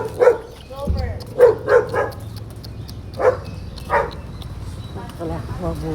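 A dog barks in short separate bursts, about half a dozen loud woofs spread irregularly over a rainy outdoor scene, with a few whimpers and some talk in between.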